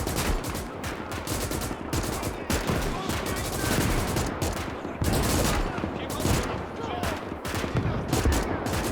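Dense, continuous gunfire rattles through a mech battle between Polish and Rusviet forces in the Winds of Iron 1920+ game, with rapid bursts and heavier main-gun shots layered loudly throughout.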